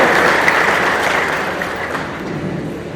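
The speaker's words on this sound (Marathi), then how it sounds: "जाहीरपणाने आपण सर्वांनी टाळ्या वाजवून त्यांचं मनापासून स्वागत करावं" Audience applause at a public gathering in Indapur welcoming newly elected village council members: dense, sustained clapping from a crowd that is loud at first and tapers slightly over three seconds, with no voices.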